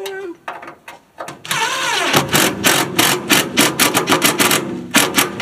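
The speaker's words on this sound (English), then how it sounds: "Now I'm gonna drill it in there." A power drill spins up and drives a roofing screw into a metal frame on a lawn mower wagon project, the motor whining and then chattering in rapid bursts as it bites, loud and close.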